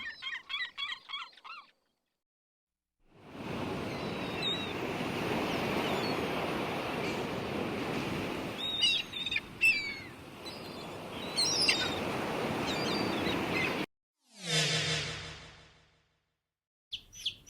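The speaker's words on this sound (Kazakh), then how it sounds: "Шағала." Gull cries ring out over a steady roar of surf, with a burst of calls at the start and another near the end.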